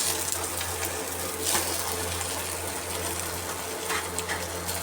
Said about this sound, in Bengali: এই যে দেখো, ডিমটা ভাজতে দিয়ে দিয়েছি, এর ওপরে রুটিটা দিয়ে দেবো।